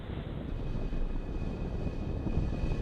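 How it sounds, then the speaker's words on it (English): SpaceX Falcon 9 rocket carrying Starlink satellites, igniting and lifting off from California, a steady, dense broadband roar with deep rumble, heard from a distance without voices. "And liftoff of the Falcon 9 and Starlink."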